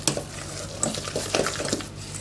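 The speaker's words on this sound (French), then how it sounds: "je fouette très fort pour que ça rentre bien dans le chocolat" A whisk beats a chocolate mixture hard in a bowl for a chocolate cake, making quick irregular scraping and clinking strokes, close and moderately quiet, with no talking.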